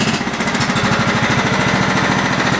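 A classic John Deere STX38 lawn tractor engine running steadily up close, a loud, continuous rapid chugging throb with no breaks and no talk.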